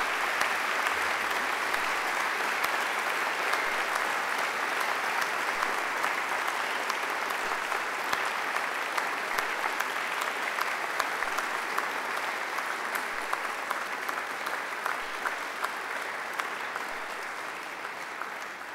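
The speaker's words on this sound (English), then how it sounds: "I invite you to give them a mighty round of applause" Graduates at a graduation ceremony applaud their families and friends with sustained, even clapping from a large crowd that continues steadily and tapers slightly toward the end.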